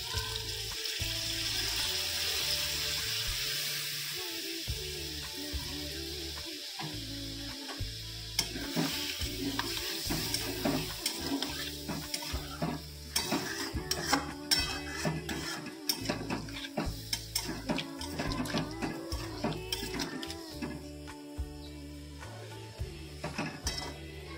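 Cauliflower sautéing in a pan with steady frying sizzle and repeated scraping stirs of a utensil, close and continuous, with watery bubbling underneath.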